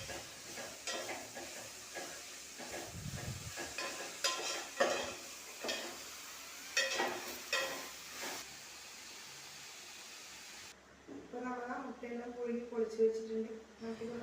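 Tomatoes sautéing in a pan with a soft sizzle and intermittent stirring scrapes, under a person talking, followed by a stretch of louder speech.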